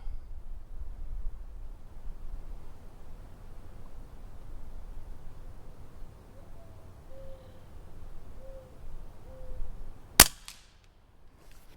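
An Umarex Notos air rifle fired outdoors at a 40-yard target: a single sharp, loud crack near the end, after a long stretch of quiet background with faint bird-like tones.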